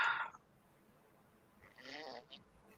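A man snoring somewhere in the room, one soft, faint rasping breath standing alone in a quiet space after a brief unrelated burst of noise.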